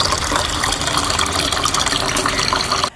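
Water gushes and splashes steadily as an Amazfit T-Rex smartwatch is dropped into it, a loud, dense wash that runs throughout and cuts off abruptly near the end.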